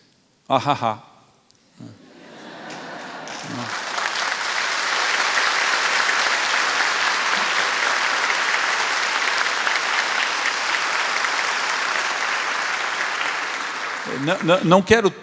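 At a national congress panel, a large audience breaks into loud, sustained applause that swells to a steady roar of clapping and holds for about ten seconds, with a voice heard briefly before and after it.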